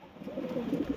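Soft, throaty cooing from a big pigeon: a brief run of low warbling notes heard up close at low volume, with no voices.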